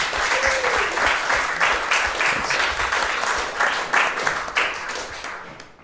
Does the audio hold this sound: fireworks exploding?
no